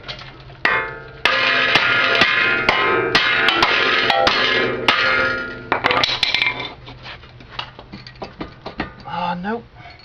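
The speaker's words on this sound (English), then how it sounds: "So I'm going to try it first with the hammer" Sharp metallic hammer blows strike a car's ball joint on a Honda Accord, landing in irregular bursts of loud, ringing clanks with a steady low hum behind them and quieter taps near the end.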